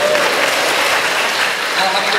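An audience of high school students claps in a school hall, dense and steady for the whole stretch, loud and close, with no voice on top.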